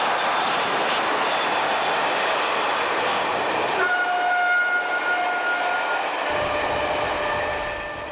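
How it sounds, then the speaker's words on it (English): British Rail diesel locomotive 45119 hauls a Penzance-bound passenger train south past Cockwood Harbour near Starcross. A loud, droning engine roar and rolling wheel noise pass close by, then ease off toward the end. "45119 heads south with the Penzance bound working"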